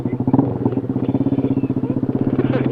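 A motorcycle engine revving hard and close, its exhaust pulsing in a rapid, throbbing rhythm that rises and holds.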